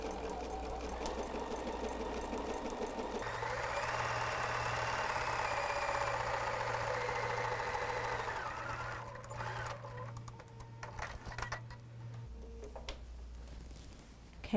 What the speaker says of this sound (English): Let's just do that zigzag real quick together.